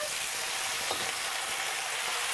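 Green vegetables stir-fry in a hot pan at home, giving a loud, continuous hiss and sizzle that stays even throughout, with no speech.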